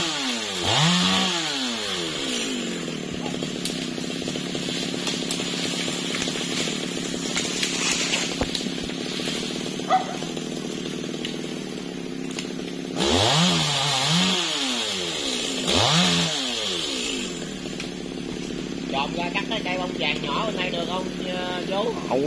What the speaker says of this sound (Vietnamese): Chú trên đó cưa chờ rớt xuống nghe qua.